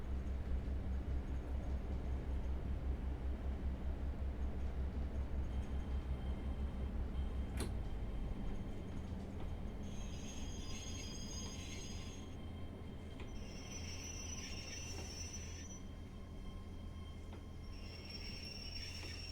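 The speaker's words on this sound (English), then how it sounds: "Oh, it's a 37 hauling the Mark 2s." A Class 37 diesel locomotive hauls Mark 2 coaches through Cardiff Central station: a loud low engine drone throbs for the first several seconds, then fades as wheel and rail noise with high squeals continues, with no talking.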